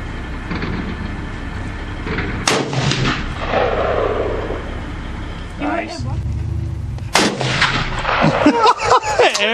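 Browning A-Bolt rifle chambered in .223 fires outdoors at targets, two sharp loud cracks a few seconds apart with ringing decay, amid steady wind or background noise and some talking between shots.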